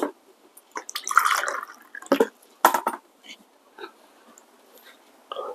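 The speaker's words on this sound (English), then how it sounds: "let me get some water to rinse my palate" Water poured for rinsing the palate between espresso tastings: a few short, close splashes and clinks, separated by quiet gaps, with no talking.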